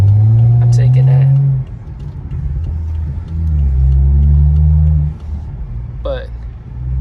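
A BMW F10 sedan with a straight-piped exhaust rumbles loud and close, its deep drone rising and falling through two long revs with brief pauses between them, while someone speaks briefly.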